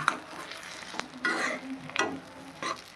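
Stuffed capsicum frying in a pan, sizzling steadily while a spatula stirs it in several scraping bursts, close and fairly quiet with no talking.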